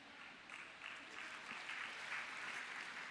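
Church congregation applause, a continuous mass of clapping that holds at a moderate, even level and builds slightly toward the end, with no talk over it.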